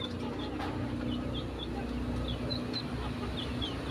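Faint, scattered chicken clucks over a constant low rumble of background noise, with a few brief higher chirps.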